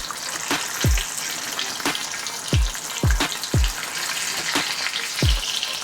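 Smoked chicken flautas fry in hot oil, a constant sizzle broken by several sharp pops and crackles spaced irregularly, close and clear with no talking.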